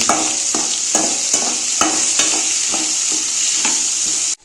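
Capsicum frying with chicken in oil for a spicy South Indian pepper chicken fry, a loud, close hiss punctuated by regular spatula stirs about every half second, ending abruptly.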